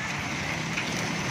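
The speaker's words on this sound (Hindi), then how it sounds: "और ये फिर बारिश" Steady, dense rainfall in Jhumra City, Faisalabad, a constant broadband hiss of drops pouring down with no voices, heavy and even throughout.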